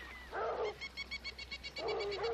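Tracking dogs on a hunt near water bark and howl in two loud bursts, with a rapid run of short yips between them, close by in an outdoor chase scene.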